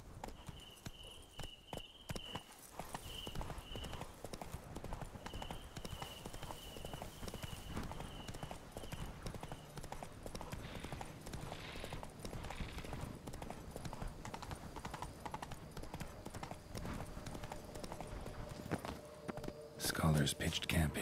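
Roach, Geralt's horse in The Witcher 3: Wild Hunt – Blood and Wine, trots with a steady clip-clop of hooves over a long stretch, joined by soft game ambience and a quiet speaking voice.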